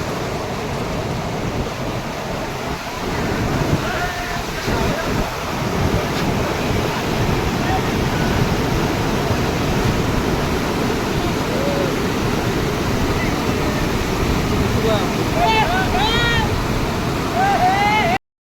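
Loud, continuous roar of rushing water at Mukteshwar Dam with wind buffeting the microphone; voices talk over it throughout.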